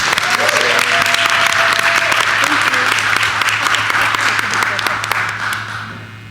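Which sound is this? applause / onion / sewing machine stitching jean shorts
applause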